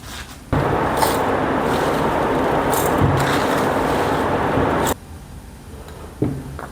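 A kitchen mixer grinder roars loudly and steadily for about four seconds, grinding roasted crispy drumstick leaves into powder, then cuts off to quiet handling noises.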